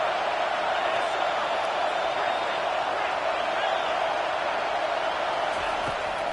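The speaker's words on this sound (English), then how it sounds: "Decibels rising as the crowd gets behind this defense on third down" Football stadium crowd roaring for the defense on third down in a UT versus Wisconsin game, a steady loud wash of cheering with a commentator talking over it.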